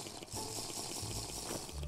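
Water gurgles and pours briefly in a Minecraft tropical island camping game, a soft continuous liquid trickle lasting under two seconds, quiet and without talk.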